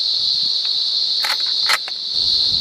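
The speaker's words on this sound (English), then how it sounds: "I really hope you can hear me over the sound of chirping cicadas" A dense, shrill cicada drone holds steady throughout, loud and continuous, with a few brief clicks and rustles breaking through.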